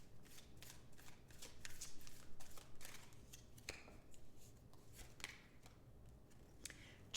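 Tarot cards are shuffled close up in a quick, rhythmic run of soft riffling flicks, with a short pause partway through, and no one talking.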